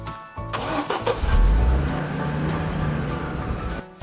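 A car engine starts and runs, rumbling steadily and close by with a heavy low-end surge as it pulls away, and no voices over it.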